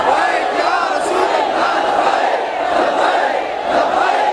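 A large crowd chants the devotional slogan Labbaik in unison at a religious gathering, a loud, dense roar of many voices that swells and holds steady without pause.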